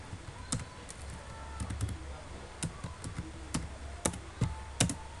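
Someone types a network command on a computer keyboard, a quick run of key clicks with louder single taps near the end, likely the space bar and enter, over faint room hiss.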